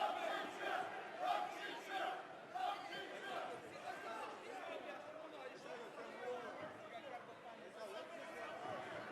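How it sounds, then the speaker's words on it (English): Arena crowd at a fight event roars and chatters between rounds, a dense wash of shouting and cheering voices that swells early then settles into a steady crowd murmur. "BAISANGUR SUSURKAEV trying to get the crowd pumped up as we head into a second frame."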